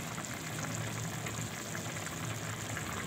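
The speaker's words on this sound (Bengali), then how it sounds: "পানি ফুটছে" Water boils steadily in a covered cooking pot of red leafy greens with small shrimp, a constant close bubbling hiss with no voices.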